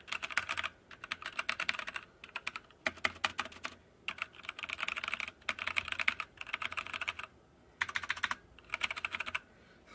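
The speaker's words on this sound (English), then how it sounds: "So here's what the keyboard sounds like." An Azio MK Hue mechanical keyboard typing close up, rapid clacking keystrokes in bursts separated by brief pauses, crisp and fairly loud.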